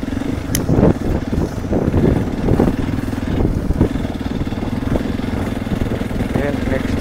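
A Hero Xpulse Rally Pro motorcycle fitted with an Akrapovic exhaust rumbles steadily at close range, a low throbbing engine note running throughout with someone talking over it.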